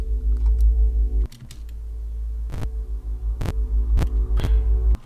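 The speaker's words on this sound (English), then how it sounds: "This is actually just the low piano sound from" A deep, reversed piano note throbs in a low, steady pulse, swelling and cutting off with a few soft clicks between.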